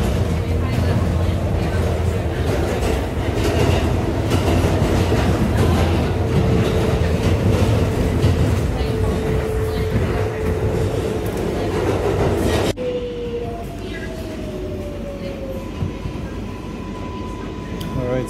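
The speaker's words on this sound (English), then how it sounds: "This is the Flusing 3007 local train." A New York subway train on the Flushing 7 local line, Kawasaki-modified R188 cars in Queens, rumbles loudly with steady rail roar and clatter, then the noise drops and a rising motor whine sounds as it slows.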